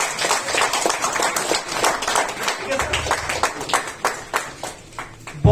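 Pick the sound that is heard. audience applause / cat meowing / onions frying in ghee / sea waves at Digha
audience applause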